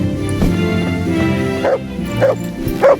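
A dog barks in the medieval open-world game Kingdom Come: Deliverance, giving three short, sharp barks toward the end over steady in-game ambience and background sound.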